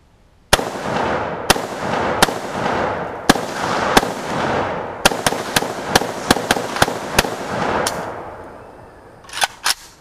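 An AKM Type 47 rifle fires 7.62x39 rounds outdoors: loud, sharp shots, first spaced singly, then a quicker run of closely spaced cracks, each with a decaying tail, followed by a few faint trailing sounds.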